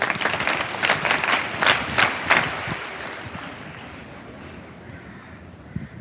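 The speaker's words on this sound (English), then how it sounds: "A big round of applause for your teachers." A short spell of audience applause for teachers at a school investiture ceremony: a few seconds of scattered clapping, moderately loud at first, then dying away into low background noise and faint wind rumble.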